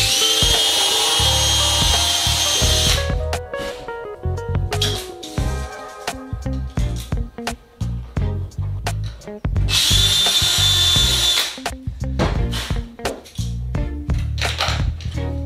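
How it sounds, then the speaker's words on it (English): A power drill whines through holes in aluminium wing rib gussets for a Sonex aircraft, two long high-pitched bursts with shorter grinding, stuttering stretches of drilling in between. "So I'm just going to go ahead and start drilling these holes."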